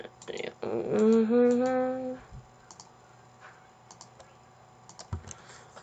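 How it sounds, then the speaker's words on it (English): A short tonal Minecraft game sound plays, then sparse, light computer keyboard clicks and mouse taps follow, close and fairly quiet. "Sorry if you hear me clicking"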